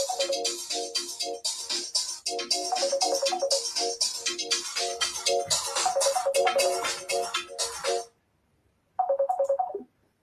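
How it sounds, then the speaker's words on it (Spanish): A phone ringtone chiming loudly and repeatedly in a melodic pattern for about eight seconds, stopping, then a short burst of ringing resumes after a pause, heard clearly with no talk over it. "vuelven a llamarme, pero voy a apagar el teléfono"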